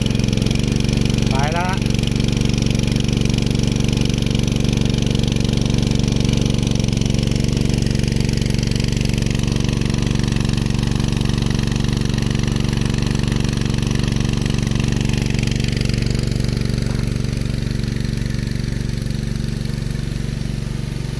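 A small engine runs loud and steady close by, its droning hum holding throughout with a slight rise in pitch as it revs.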